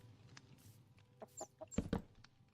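Chickens in Minecraft cluck in quick bursts, a handful of short calls clustered near the end and heard fairly close against a quiet background.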